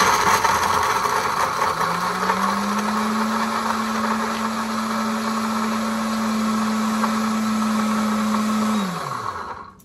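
An appliance grinds toasted almonds into a fine powder, whirring into a loud, steady grinding hum with a rattling edge, then winding down at the end.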